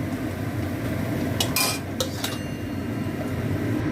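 Metal utensil scraping and clinking against a pan while fried onions are lifted out of the oil, a few sharp bright clatters in the middle over a low steady kitchen hiss.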